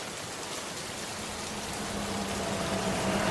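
Steady rain pours down in an animated Hindi romance, a dense even hiss of drops hitting surfaces that swells slightly toward the end, with no talking.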